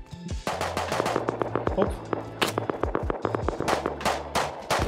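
Rapid bursts of gunfire in the video game Rust, sharp cracking shots fired in quick uneven volleys and single reports, loud and close, with a brief spoken word at the start.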